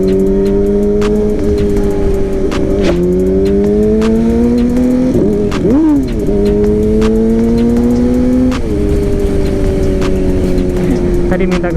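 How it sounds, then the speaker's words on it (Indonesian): A Kawasaki ZX4RR motorcycle being ridden, its engine droning loud and steady close up, with the pitch climbing and dropping through gear changes over the whole stretch. "nikmatin suara si ZX4 nih."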